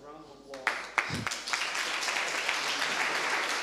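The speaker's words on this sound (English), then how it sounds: "Give him a round of applause." Applause from a small audience at a crypto meetup in Sofia, a dense patter of claps building after a few scattered early ones and holding steady to the end, with a brief voice near the start.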